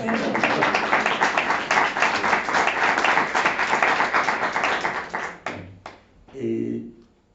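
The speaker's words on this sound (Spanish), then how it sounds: "aplaudamos" Audience applause at a book presentation: dense, steady clapping for about five seconds, then it fades and a voice briefly speaks.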